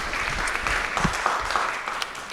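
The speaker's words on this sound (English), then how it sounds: "So let's give Glenda another round of applause." Conference audience at an APAICS housing and home ownership session applauding a board member, a dense, loud wash of clapping that holds evenly through the short span.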